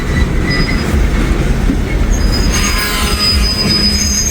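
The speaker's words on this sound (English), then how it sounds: "Looks like they got a lot of brakes rubbing." Wheels squeal on a passing coal train as brakes rub, with high, sustained metallic tones over a loud, continuous low rumble of rolling railcars nearby.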